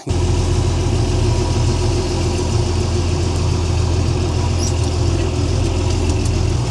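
A heavy diesel engine of a John Deere 4430 tractor runs steadily nearby, a constant low throbbing rumble that starts abruptly and holds even throughout.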